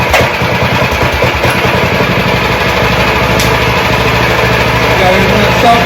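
A small Hemi engine on a Baja minibike runs continuously, loud and close, with a buzzing, slightly uneven idle throughout.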